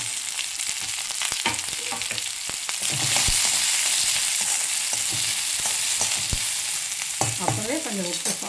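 Onion, garlic and curry leaves frying with mustard seeds in hot oil for a sambar, giving a steady loud sizzle with scattered pops and crackles and occasional stirring scrapes, with no talk.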